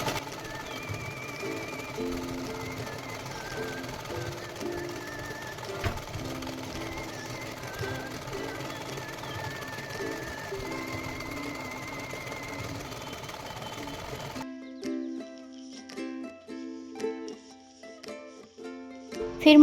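Sewing machine stitching along lines to lock sequins onto the hem of a farshi salwar hums steadily and faintly, with a rapid rhythmic clatter for most of the stretch, then stops briefly and restarts.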